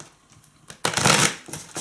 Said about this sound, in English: let's just give these a shuffle up.